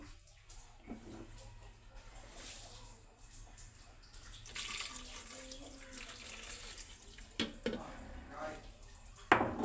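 Milk pours over Oreo biscuits for a shake, a soft liquid trickle and splash that runs steadily through the clip with a few sharper clinks near the end.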